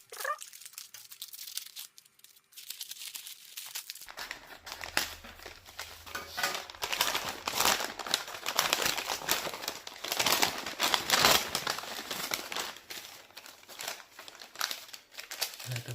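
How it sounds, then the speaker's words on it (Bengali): A product packet for a Portronics DASH 7 wireless microphone is torn open and handled. After a quiet start, close crinkling and crumpling of plastic packaging continues steadily, loud and alone. "এখন আমি প্যাকেটটা খুলছি।"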